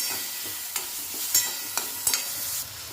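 Chopped tomato sautéing with onion paste in a pan for a sprouted moth bean curry, a steady soft sizzle with several sharp stirring scrapes and clicks scattered throughout, close and moderately loud, no voices.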